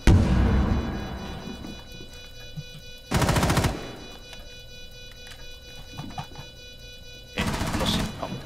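Gunfire in a video game: two sharp bursts of rapid automatic fire, one short and one longer, separated by quieter game ambience with faint clicks and ticks.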